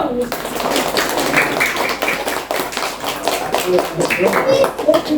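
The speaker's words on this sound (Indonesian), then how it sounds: "tepuk tangan dulu" Schoolchildren in an elementary religious-education class clap their hands together, a busy run of close, sharp claps mixed with children's voices and chatter.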